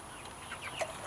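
Chickens cluck softly from a farm flock, a few brief calls over steady background noise, moderately near.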